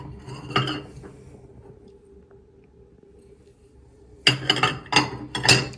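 Pieces of a vintage Christmas dish set clink and clatter together at an estate sale, a quick burst early on, then a quiet stretch before a louder run of several sharp knocks and rattles near the end.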